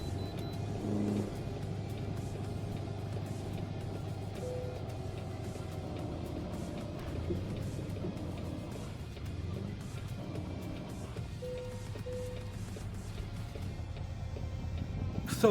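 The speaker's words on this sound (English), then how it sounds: "I think it's the engine sound mod that makes the truck sound like this." A modded truck engine in American Truck Simulator drones steadily at close range, a low continuous rumble with slight swells in revs and faint higher tonal whines, running alone without talk.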